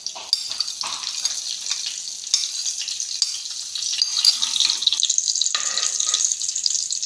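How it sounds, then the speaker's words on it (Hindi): Cumin seeds frying in hot ghee for a moong dal tadka, a bright continuous sizzle with crackles and pops, close and fairly loud, growing slightly fuller partway through. "पहले हमने ज़ीरा ऐड करना है घी में।"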